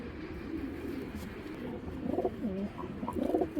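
Indian high flyer pigeons give soft, low, repeated coos over quiet background noise, the calls growing clearer in the latter half.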